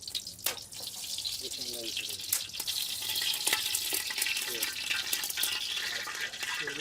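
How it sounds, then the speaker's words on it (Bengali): Oil poured into a hot pan over an outdoor wood fire sizzles and crackles continuously alongside the fire's steady hiss, with a person talking over it. "আমরা এখন তেল দিয়ে দিচ্ছি"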